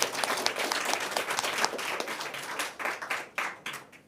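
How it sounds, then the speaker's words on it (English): Sustained applause from an audience at a panel discussion, dense clapping that swells and then thins into scattered claps near the end, with no talking. "I want to give a big round of applause to our panelists tonight."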